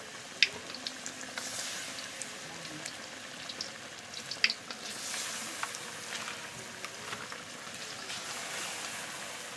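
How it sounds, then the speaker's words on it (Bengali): Jackfruit pieces fry in hot oil, a faint continuous sizzle and bubbling hiss with a couple of small sharp pops, heard alone without voices. "এখন আমি তেলে দেখছি আপনারা দেখেন কীভাবে কাঁঠাল ভাজি করতে হয়"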